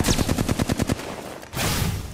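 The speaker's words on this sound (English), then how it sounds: "she's beaming me with that fucking charge rifle" A charge rifle fires in an online shooter game: a rapid, loud burst of evenly spaced cracks, a short pause, then a sustained buzzing beam, all close and with no talking.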